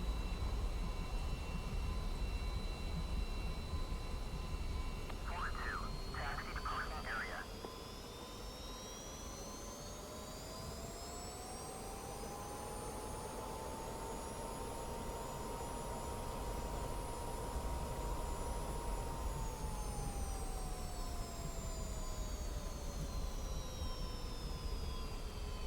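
After landing in the DCS flight simulator, an F-86 jet engine whines loudly and steadily. Its pitch swells upward, holds high, then winds back down, with no voices over it.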